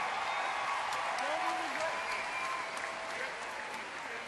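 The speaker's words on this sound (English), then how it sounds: "a big round of applause for an amazing performance." A crowd claps steadily at a costume song and dance contest at Blizzcon 2010, sustained applause heard throughout with voices mixed in.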